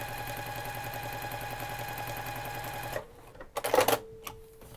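A sewing machine chain-stitches quilt log pieces, a steady rapid mechanical whir for about three seconds, then it stops and a few brief clicks and rustles of handling follow.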